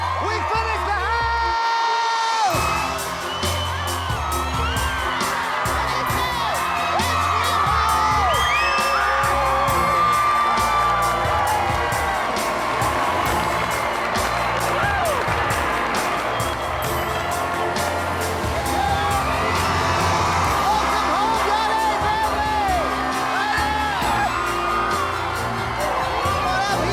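A large crowd outdoors cheers, whoops and shouts with excitement at the reveal of a finished house, a loud, sustained roar with children's shrieks and yells rising and falling throughout.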